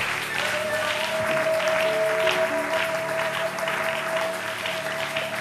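A church congregation applauds at a Sunday service, with continuous full-room clapping that holds steady throughout, a faint sustained tone underneath and no clear talking.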